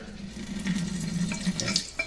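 Cold water runs from a tap over a freshly opened oyster being rinsed in a sink, a close, steady splashing hiss with small clinks and trickles toward the end.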